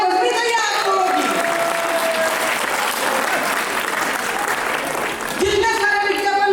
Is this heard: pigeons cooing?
no